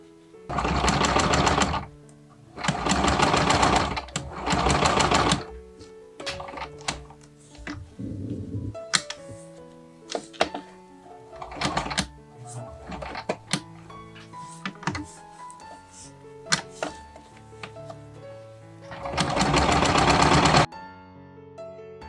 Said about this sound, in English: some machines have trouble sewing this